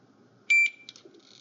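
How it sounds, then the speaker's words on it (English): A short electronic beep, a clear high tone held for a moment, followed by a couple of fainter chirps, in an otherwise quiet setting. "Heard it beep, now it's off."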